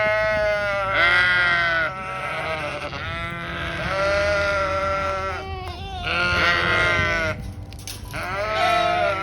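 Farm goats on a heritage homestead bleat in long, wavering, drawn-out calls, several animals overlapping and nearly continuous, loud and close with a steady rumble of background noise.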